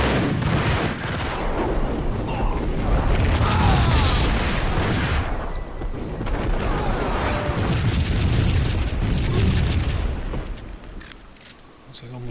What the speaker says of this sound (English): Looks like I almost jumped into an explosion.